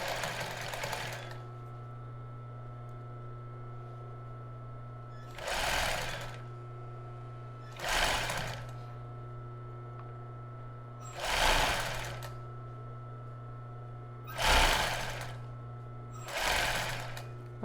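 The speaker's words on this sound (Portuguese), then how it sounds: "Eu vou diminuir, colocar um zigue-zague menor. Tipo um 3 dessa máquina." A sewing machine runs a zigzag stitch in short repeated bursts, each a whirring rattle lasting about a second, separated by pauses filled with a steady motor hum.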